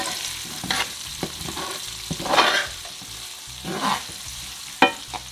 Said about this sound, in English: Now just make that go and saute in the pot for a bit.